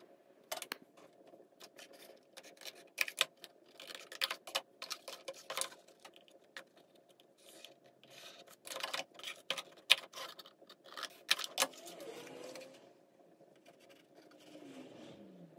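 Cardboard is cut away by hand: faint, irregular scraping and sharp clicking strokes come in uneven bursts over a quiet background, with no voices.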